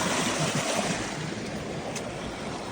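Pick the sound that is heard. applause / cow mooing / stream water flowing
stream water flowing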